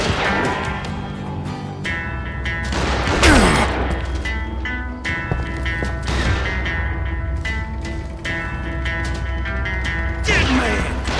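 Gunfire bursts in a western video game, several sharp shots and crashes spread over a busy, loud game soundtrack with music tones running throughout.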